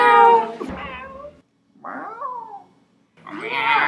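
A voice imitates a cat meowing, giving three drawn-out, nasal meows separated by short pauses, loud and close with no other sound.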